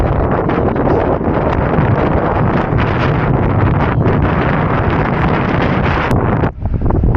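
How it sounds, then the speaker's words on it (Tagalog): Strong wind buffets a microphone in a loud, continuous roar for the whole stretch, with a brief dip near the end, at Owakudani volcanic valley in Hakone, Japan. "Sobrang lakas ng hangin."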